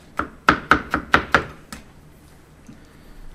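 Food chopped finely on a board with a knife, giving about seven quick, sharp, evenly spaced chops close by before falling quiet.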